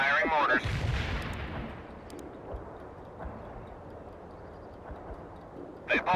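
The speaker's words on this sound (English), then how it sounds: "Zulu 9 are firing mortars" Mortar rounds firing in the real-time strategy game World in Conflict, a loud burst up front that rolls off into a long fading rumble, with a further thump near the end and a voice speaking over it.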